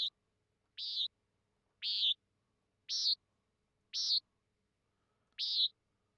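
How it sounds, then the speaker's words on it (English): Hawk call sound effect variations from a UE5 MetaSound preset: six short, shrill screeches alone, spaced roughly one second apart, each similar with slight differences in pitch. "This is our hawk. So let's get our hawk variations."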